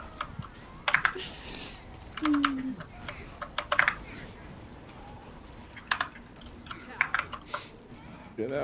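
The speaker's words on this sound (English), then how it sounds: "typing again" Bursts of fast typing on a computer keyboard during an online game session, clattering in short irregular flurries of close key taps, with talk and a brief chirp in between.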